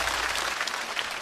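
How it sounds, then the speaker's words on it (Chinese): A stand-up comedy audience claps in a brief, dense burst of applause, steady and moderately loud for just over a second. "再次掌声送给"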